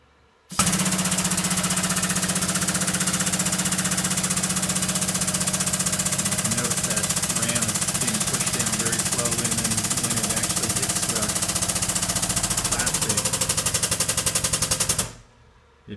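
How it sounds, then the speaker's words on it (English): An injection molding machine injecting Santoprene during overmolding gives a loud, continuous mechanical rattle with rapid pulsing for about fourteen seconds, then winds down and stops. "what you'll hear is, the normal operation of the injection itself"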